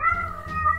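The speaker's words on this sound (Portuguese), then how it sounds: "a gata emite miados característicos para avisar aos" A female cat in heat gives a short, tonal meow, close and clear with a slight rise and fall.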